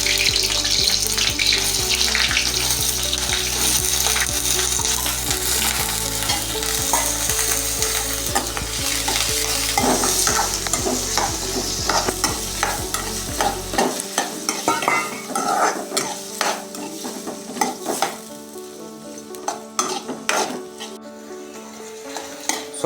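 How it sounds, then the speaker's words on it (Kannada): Chopped paneer fries in ghee with a continuous sizzle, mixed with frequent scraping and clattering stirs that grow sharper and more spaced out once a steady background hum cuts off midway. "ಹೆಚ್ಚಿಕೊಂಡಿಟ್ಟ ಪನ್ನೀರನ್ನು ತುಪ್ಪದಲ್ಲಿ ಸ್ವಲ್ಪ ಫ್ರೈ ಮಾಡಿಕೊಳ್ಳಬೇಕು"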